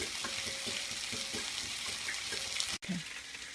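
Potatoes and onions fry steadily in a pan, a continuous close crackling sizzle with faint stirring clicks and a brief gap near the end.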